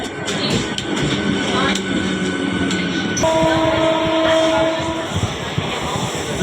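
A train at the station sets off toward Porabazar with a low rolling rumble and a steady tonal hum, while voices murmur in the background.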